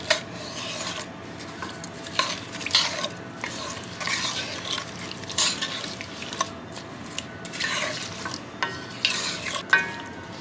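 Food with little liquid in a pot coming to a boil, a close busy sizzling and bubbling with scraping and stirring rasps and occasional clinks of a utensil.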